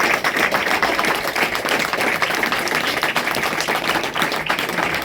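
Steady, dense applause from a crowd at a blood donation camp, many hands clapping continuously at even loudness throughout, with no pauses or speech.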